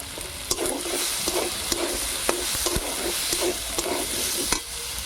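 Peas sizzle and fry in a pan with dry chilli, ginger-cumin paste and chopped tomato, broadband hiss steady throughout while a spoon scrapes and clicks against the pan every half second or so, close and fairly loud.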